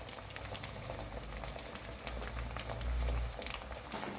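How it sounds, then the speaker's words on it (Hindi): Onion and spice paste sizzles and bubbles in a pan for spicy chicken, a soft, steady crackle with faint popping, close and fairly quiet, with no talking. "तो गाइस मैं इसको अब इसमें भूनूंगा थोड़ी देर तक"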